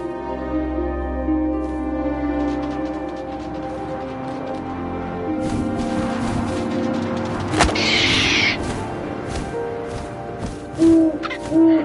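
An owl hoots in What Remains of Edith Finch, a soft repeated call over a dark, windy game ambience with a sharp impact near the middle and a few brighter thumps toward the end.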